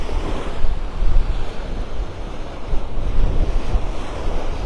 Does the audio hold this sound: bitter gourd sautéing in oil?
no